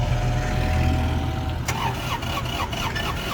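An ISEKI GEAS 233F 23 hp mini tractor engine cranks over a steady low rumble, then catches around the midpoint with a sharp burst and settles into a loud, close, rhythmically pulsing run.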